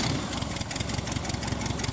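The engine of a Little Toot homebuilt biplane runs close and loud, a steady, rhythmic low chugging with even pulses throughout and no voices over it.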